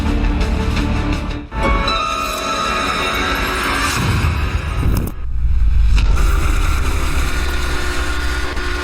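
A loud train rumbles past close by at the Kaliwedi railway crossing near Kaliwedi station, a roaring wash of noise that briefly dips twice before surging again.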